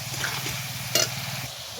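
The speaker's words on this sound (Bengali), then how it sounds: "মিষ্টিটা দিয়ে ভালো করে এখন নাড়াচাড়া করে, আর বেশি ভাজতে লাগবে না" A spoon stirs food frying in oil, a brief close sizzle with soft scraping and one sharper clink in the middle.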